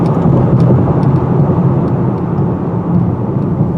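Loud, sustained engine roar of a 2018 Honda Clarity plug-in hybrid accelerating hard, a dense rumbling drone that holds steady throughout.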